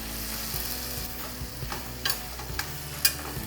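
Butter sizzles in a hot pan with orecchiette and fresh kale, a steady frying hiss with a few sharp crackles and spatters near the end, close and without talk.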